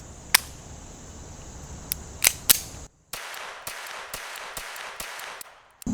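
Shots from a Beretta Bobcat 21A pocket pistol: a few sharp, scattered reports at first, then a quicker run of roughly seven evenly spaced cracks, loud and close with no speech.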